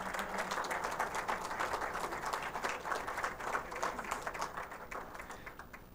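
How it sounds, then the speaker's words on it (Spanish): Audience applause at an electromobility event in Antofagasta, a continuous patter of clapping that holds steady and then gradually thins and fades toward the end. "Un fuerte aplauso para don Víctor Tolosa."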